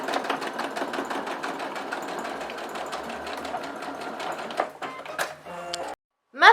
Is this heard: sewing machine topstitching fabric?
yes